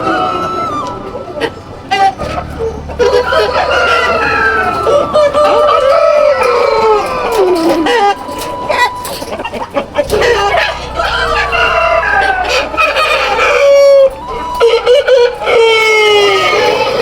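Roosters crow in long rising and falling calls and chickens cluck throughout a poultry farm shed, loud and close, with people talking over them.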